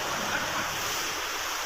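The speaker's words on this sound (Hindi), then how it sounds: "ये देखें, सारा पानी यहाँ से सारा निकल रहा है।" Floodwater rushes through a flooded house in Taunsa, Pakistan, a steady, loud broadband wash of water that stays constant throughout without talking.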